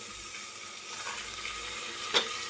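Onions frying in a spoonful of oil for egg biryani give a steady, soft sizzle, with one brief clink near the end and no voices.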